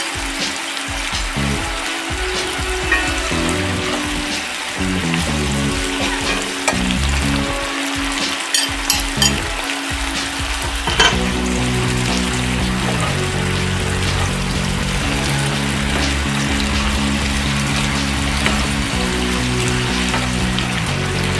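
Pasta with foraged wild mustard greens is stirred on high heat in a hot pan, producing a loud, steady frying hiss with intermittent scraping and clattering, which grows denser in the second half. No one speaks.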